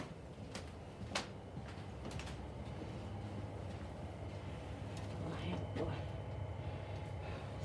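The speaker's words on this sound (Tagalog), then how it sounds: "Makita nyo ang double deck na train." A double-decker train rumbles past with a steady low roar and clacking, punctuated by sharp metallic ticks, while a voice talks faintly nearby.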